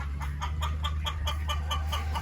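Farm chickens cluck in a steady run of short repeated notes, close and moderately loud, over a constant low background hum.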